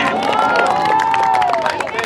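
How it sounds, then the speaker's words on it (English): Crowd cheering and applauding for a player at a tournament finale, a loud, dense wash of voices and claps with a rising shout, sustained throughout. "Big round of applause for him."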